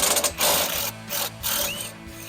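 Ratchet wrench clicking as it turns a nut on a Silverado front Bilstein B8 5100 shock install, a few short bursts of rapid ratcheting close by, separated by brief pauses.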